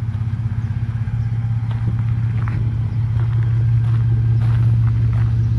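A 1966 Ford F100 truck's engine idles close by, a loud, steady low rumble with a slightly uneven pulse that grows a bit stronger partway through.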